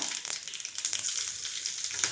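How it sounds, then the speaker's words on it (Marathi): Mustard seeds and asafoetida sizzle in hot oil as a tempering is made. The frying crackle is steady and close, runs the whole length and has no talk over it. "आता यामध्ये मी मोहरी टाकली मोहरी फुटली ती हिंग टाकला"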